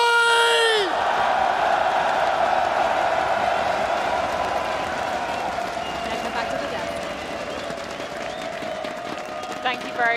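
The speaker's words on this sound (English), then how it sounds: "everyone, as loud as you can, Antwerp, make some noise!" A large esports arena crowd at a Counter-Strike major grand final in Antwerp roars and cheers loudly in a sustained wall of noise, with claps and whoops that slowly ease off; a voice briefly opens over it.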